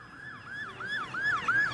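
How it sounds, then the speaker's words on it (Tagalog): Ambulance sirens wailing in a village, a rising and falling electronic siren repeating in quick sweeps and growing louder as it approaches, with road noise underneath and no speech. "Walang tigil ang daan ng mga ambulansya."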